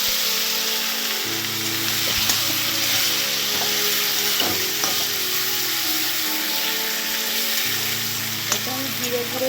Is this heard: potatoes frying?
yes